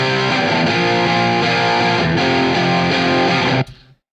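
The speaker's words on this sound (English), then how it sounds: "they just have a darkness and crunchiness to them that really adds a lot to this track" Distorted electric guitar through a Hiwatt amp with a drive pedal, dark and crunchy, playing sustained chords steadily and loud for several seconds before cutting off abruptly near the end.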